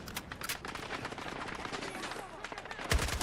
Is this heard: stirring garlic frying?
no